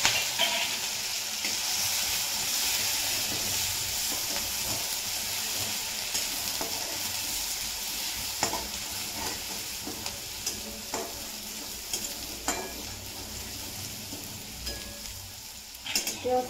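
A ground spice paste fries in oil with mustard seeds in a pan, giving a steady close sizzle with scattered scraping stir strokes that grow more frequent toward the end.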